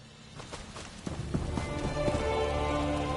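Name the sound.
rain in the video game Elder Scrolls Online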